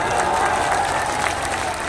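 A crowd at an outdoor political rally in Jalalpur Bazaar, Saran, Bihar, claps steadily and densely for about two seconds, a loud, even wash of many hands with no pause.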